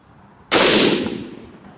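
A single sharp 6.5 Creedmoor rifle shot, loaded with H4350 powder, cracks loudly after half a second of quiet and is followed by a long, decaying outdoor echo.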